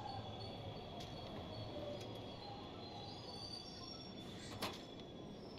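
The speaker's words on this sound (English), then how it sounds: "And a train comes." A train pulls into a station in Train Station Simulator, its wheels squealing in a long, thin whine over a low rolling rumble, quiet and steady with a short clank near the end.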